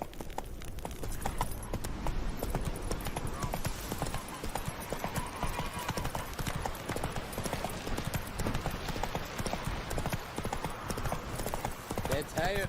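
Roach, the horse in The Witcher 3, gallops with rapid, steady clip-clop hoofbeats through the whole stretch, close and prominent, joined by faint game voices.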